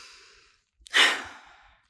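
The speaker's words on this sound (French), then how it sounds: "Je prends une grande respiration." A single deep breath, a sharp intake followed by a long, breathy exhale like a sigh, close and clear after a moment of near silence.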